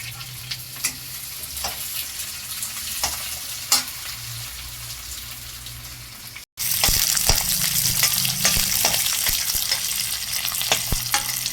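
Onion fries with mustard seeds, green chilies and turmeric for a sweet pumpkin sabji, a continuous sizzle broken by spoon clicks and scrapes; after a brief gap the frying turns louder and brighter.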